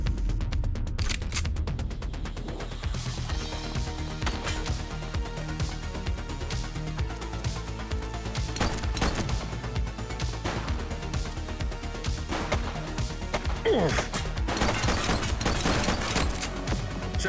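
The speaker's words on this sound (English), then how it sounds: "Shots fired!" Gunfire breaks out in a police shootout in The Precinct video game, with rapid bursts and sharp repeated shots over a dense, loud background of game music and effects, no talking.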